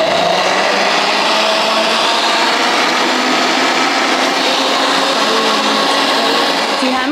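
A Hamilton Beach juicer mixer grinder running on its soup setting, blending broccoli soup to a full paste: a loud, close, unbroken motor whir with churning texture, steady from start to finish.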